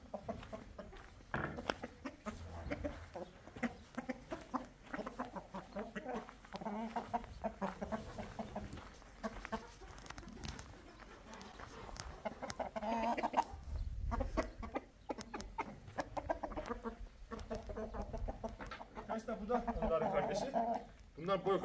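Indian game roosters and hens clucking in a farmyard, with continual soft clucks and calls under close conversational talk throughout.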